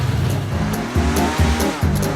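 A ZZ572 boat engine rated at 620 horsepower roars loudly at a boatyard, a dense, close rumble that swells in a few uneven surges, with no voices.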